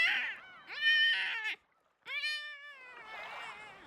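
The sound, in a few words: voice imitating seagull, sounding like a cat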